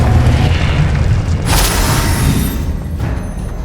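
A Confringo spell blast in the video game Hogwarts Legacy: loud booming explosion bursts with a sharp crack near the middle and another near the end, over a rumbling background.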